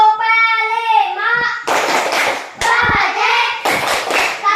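Schoolchildren in a classroom performing a rhythmic clapping chant, voices calling out words in unison between sharp bursts of hand claps, starting with a sung line before the clapping begins.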